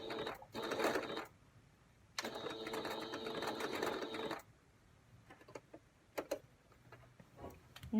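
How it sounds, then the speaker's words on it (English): A sewing machine stitches fabric for a drawstring bag in a few short bursts of whirring, separated by quiet pauses with faint clicks, close up and without talk. "be careful as you sew not to stretch the material or it'll bunch up."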